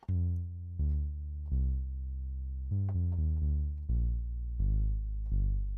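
A synthesizer bass patch with short decay and gently shifting filter cutoff plays a series of rounded, sustained notes of changing pitch, loud and alone with no voice.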